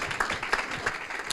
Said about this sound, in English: But big round of applause, please,